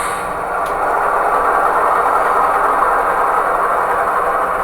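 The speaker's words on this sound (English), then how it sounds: "with the dynamic digital exhaust, you can hear that prime mover back off as my locomotive coasts to a stop" Blunami sound decoder in a model locomotive producing a steady, loud low prime mover rumble, a continuous droning engine sound holding at constant level throughout, with no talking.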